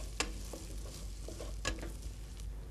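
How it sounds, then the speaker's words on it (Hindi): Finely chopped onion and green chilli frying in a pan for biryani, a soft steady sizzle broken by a few sharp spoon taps and scrapes, close but quiet. "हरी मिर्च डालने के बाद अब इसमें हम डालेंगे बारीक कटा हुआ प्याज, और इसे हमने भूनना है"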